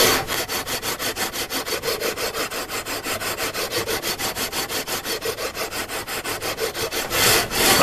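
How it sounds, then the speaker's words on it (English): A weighted sanding beam slides back and forth across guitar frets, leveling them in quick, even rasping strokes at close range. The strokes repeat about six times a second without a break. "we're letting the weight of the sanding beam do the sanding"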